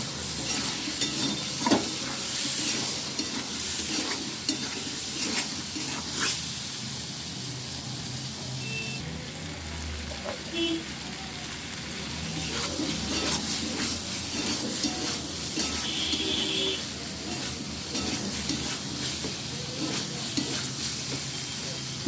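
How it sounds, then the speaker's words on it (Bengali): Spice paste with ground tomato frying in a pan for a fish-head and potato curry: a continuous close sizzle and hiss broken by repeated stirring scrapes and clinks of the spoon, with a brief quieter lull in the middle. "এবার ভালোভাবে মশলাটা ভেজে নেব।"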